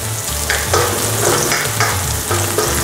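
Red onion and crushed garlic sauté in a pan for pork neck adobo, a steady close sizzle broken by repeated scraping stirs, with no talking.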